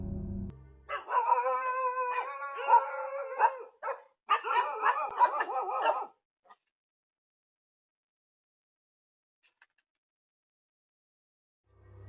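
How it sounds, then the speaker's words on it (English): A dog barks and yips rapidly for several seconds, high and urgent, then stops, leaving near silence. "the barks grew frantic"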